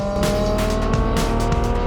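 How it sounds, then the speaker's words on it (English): A supercar at full throttle, its engine roaring loudly and continuously up close with repeated bursts of rising revs, heard alone without talk. "Listening to the engine climb through each gear, screaming at full throttle"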